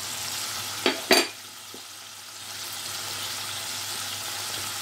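Whole spices including cumin, bay leaf, peppercorns, cloves, cardamom and halved dried chili hit hot oil with two quick bursts of sizzle, then a steady soft frying hiss continues alone.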